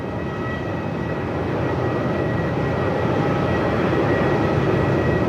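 Qantas flight 458 departs Melbourne Airport for Sydney in gusty wind of over 45 knots, a loud, continuous jet roar that builds slightly and holds without any voices.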